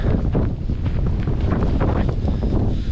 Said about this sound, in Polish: Już zaczyna się wiatr, o którym tam niżej mówiłem.